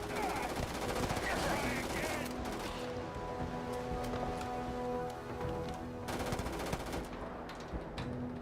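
Machine gun fire in the video game Starfield, rapid sustained bursts of automatic gunfire that fill the first seconds, then sparser shots and game sounds continuing at a lower level.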